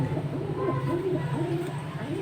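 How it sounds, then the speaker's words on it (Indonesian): Pigeons cooing, kept racing or kolongan birds in breeding season with male and female both calling; repeated soft rolling coos in a steady rhythm, close and moderately loud over low background hum. "Yang jantan juga bekur gitu, dua-duanya bekur terus deket-deketan"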